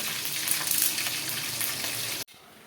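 Chana dal and mustard seeds fry in hot oil, a steady close hiss and crackle that runs on for about two seconds, then cuts off sharply, leaving a quiet room.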